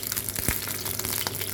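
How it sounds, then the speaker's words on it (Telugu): Eggs frying gently in a pan for an egg curry, a steady close crackle and sizzle with a few brief pops. "చిన్నగా ఫ్రై చేసుకోవాలండి గుడ్లు."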